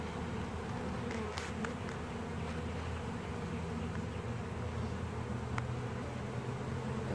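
Honeybees swarm and buzz steadily around an open hive during an inspection, a dense continuous drone close by with a few louder passes of individual bees and no talking.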